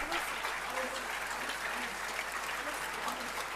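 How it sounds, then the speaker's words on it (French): Applause in an assembly hall during a French political meeting: fairly faint, even clapping from the audience continues throughout, with a low steady hum beneath it and some murmuring mixed in. "Vous pouvez les applaudir"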